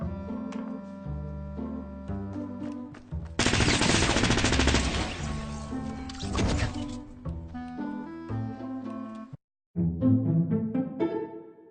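Submachine gun fire in Fortnite Battle Royale, a dense rapid burst of shots layered over game music, loud and sustained for several seconds, then a brief drop to silence before the music resumes.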